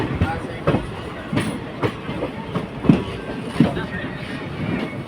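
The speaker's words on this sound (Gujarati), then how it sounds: "નજીક નજીક એકદમ તે નજીક ટ્રેન છે" A Rajkot–Porbandar passenger train rolls past very close, with steady rhythmic clickety-clack from the wheels over rail joints and a voice talking beneath the rumble.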